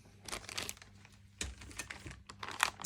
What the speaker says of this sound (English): these are in plastic, so I do apologise for any rustling